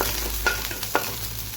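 Vegetables fry in a little oil for Maggi noodles, giving a steady close sizzle with a few soft stirring scrapes and clinks, and no talking.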